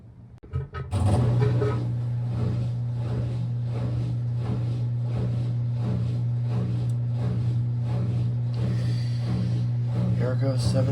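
A Maytag washer drum spins at 700 RPM with a steady, loud motor hum and a rhythmic whoosh repeating throughout, after a short clunk at the start; a voice talks briefly.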